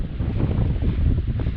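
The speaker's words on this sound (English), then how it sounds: "it is super windy" Strong, gusty wind roars across a mountain lake on the Arizona Trail, a steady low buffeting rumble battering the microphone with no pauses and no voices.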